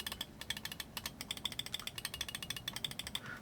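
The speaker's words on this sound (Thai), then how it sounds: "ใช้เป็น VGN X กับ Kale นะครับก็เป็นสวิตช์ออปติคอลนะครับเสียงคลิกประมาณนี้" Optical switches on a VGN X gaming mouse clicking, a rapid run of sharp, close, crisp clicks in a quick steady rhythm, heard alone.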